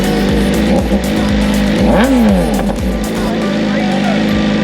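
A BMW M1000RR sport motorcycle fires up and revs loudly nearby, its engine note rising and falling in sharp sweeps while people talk over it.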